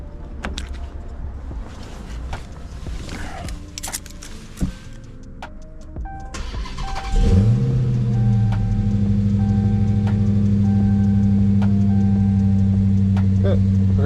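Dodge Hellcat V8 with its active exhaust valves deleted: clicks and rustling precede a sudden loud start-up, then a steady deep rumbling idle that runs on close and continuous.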